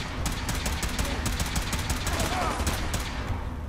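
Dense, continuous gunfire from Fallout 4 fills the scene, with rapid overlapping shots forming a steady fusillade at a constant, fairly loud level throughout.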